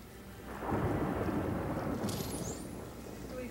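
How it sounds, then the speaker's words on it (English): A thunderstorm in the video game Luigi's Mansion 3 rolls as a deep, loud rumble of thunder over steady pouring rain, swelling after a quieter start and staying dense throughout, with no voices. "Oh, it's a thunderstorm."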